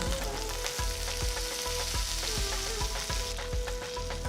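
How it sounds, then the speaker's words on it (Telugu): Mustard seeds, chopped ginger, green chillies and curry leaves frying in hot oil for idli tempering: a loud, dense crackling sizzle with rhythmic stirring thumps against the pan, close and continuous, with no voices. "ఒక టీ స్పూన్ ఆవాలు వేసి వేయించాలి తర్వాత ఇందులో తరిగిన ఒక అల్లం ముక్క చిన్నగా తరిగిన రెండు పచ్చిమిరపకాయలు కొన్ని కరివేపాకులు వేసి కలపాలి"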